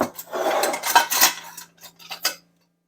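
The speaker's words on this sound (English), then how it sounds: "you can use your hands, or you can use a potato masher" Potato masher working through strawberry pie filling in a bowl, a quick run of clattering metal-on-dish knocks and scrapes, close and fairly loud, ending after a couple of seconds.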